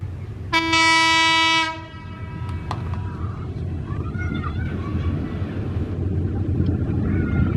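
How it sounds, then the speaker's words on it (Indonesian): Train horn blares loudly for about a second as a train approaches level crossing JPL 1 heading toward Garut station, followed by a steady rumble of rail cars rolling past nearby. "Silahkan disimak keretanya melintas JPL 1 mengarah ke arah stasiun Garut."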